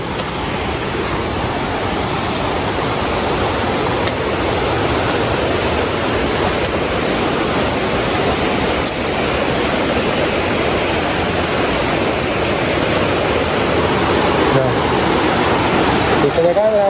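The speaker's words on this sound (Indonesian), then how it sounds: "Kita coba lihat aja gimana derasnya air sekarang." High, fast-flowing water on a mountain trail in Indonesia, a steady loud broadband roar of rushing river that continues unbroken and close for the whole stretch, with no voices standing out.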